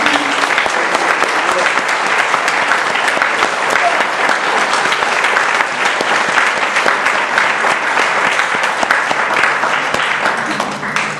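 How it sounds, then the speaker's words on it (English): Loud, sustained applause from a large audience at an award event for an Illinois state representative, dense continuous clapping lasting the whole stretch and tapering slightly at the end. "you should give yourself a round of applause for all of you"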